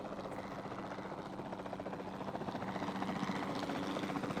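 A helicopter in a dinosaur park video game gives a steady, rapid rotor chop over a low engine drone, continuous and growing slightly louder toward the end.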